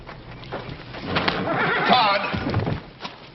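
A horse whinnies in a Western ranch scene, a loud, close, wavering neigh rising and falling over a couple of seconds amid hoof and movement noise.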